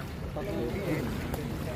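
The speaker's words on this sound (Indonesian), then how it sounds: "Nah ini mengalir deras airnya," Rushing floodwater pours through a breached embankment of the Wulan River near the Demak–Kudus Pantura road, a steady broadband roar with wind buffeting the microphone.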